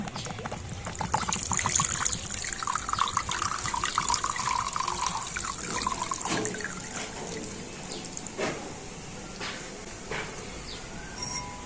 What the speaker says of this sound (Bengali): ছাগনির মধ্যে দিয়ে ডাবের জলটা আমি ছেঁকে নেব